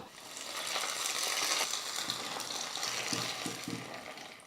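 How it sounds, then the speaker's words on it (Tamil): Hot oil tempering of mustard seeds, urad dal and curry leaves poured into coconut chutney gives a loud, continuous sizzle with crackling pops and a few stirring knocks near the end. "ஒரு குட்டி கடாயில் எண்ணெய் ஊற்றி கடுகு போட்டு உளுத்தம்பருப்பு போட்டு கறிவேப்பிலை போட்டு தாளிச்சிக்கிட்டேன் இப்போ இதை வந்து சட்னியில் ஊற்றிக்கலாம்"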